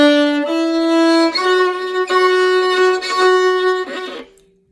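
A bowed violin, played with a tense, squeezed bow hold, plays a few sustained notes with a harsh, scratchy, strained tone, each note held then shifting, ending in a brief fade.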